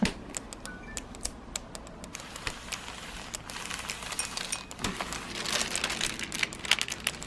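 Parchment paper peeled off a beeswax-coated fabric food wrap, giving close, dry crackling and crinkling with many sharp ticks that thicken into a steadier rustle toward the end.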